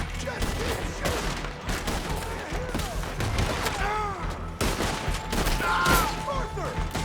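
Rapid gunfire rings out in Red Dead Redemption 2 during a frantic shootout, with overlapping shots and bursts throughout, mixed with shouting voices and game sound effects.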